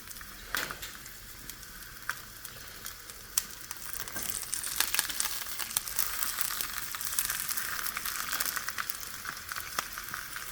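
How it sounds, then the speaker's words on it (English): Bok choy pieces frying in hot oil in a pan, with a steady broadband sizzle and crackling pops throughout, growing a little louder toward the middle and staying close and alone without talk. "I'm going to start laying the bok choys right in there. And we're just going to fry them just like this."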